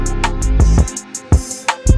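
A punchy beat made in FL Studio, compressed with a compressor turned on, with thumping kicks and crisp hits, loud and tight with a steady groove and no voices.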